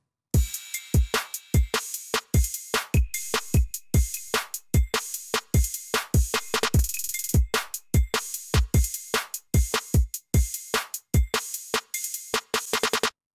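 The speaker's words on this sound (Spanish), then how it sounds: "Bueno, y siguiendo, la batería suena así." A programmed drum loop built in FL Studio for a beat, with punchy kicks and snappy hits repeating in a steady, tight rhythm, loud and up front with no talking over it.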